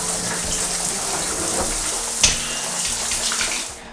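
A rainfall-style overhead shower head sprays steadily in a renovated old-house bathroom, a close, continuous hiss of falling water with a brief splash in the middle and no talking.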